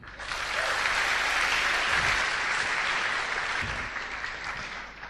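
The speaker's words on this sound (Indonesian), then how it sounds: "Beri aplaus buat Silver Lion Ibu Siska." Audience applause at a business gathering, a full, steady clapping crowd that swells quickly and holds loud before tapering slightly toward the end.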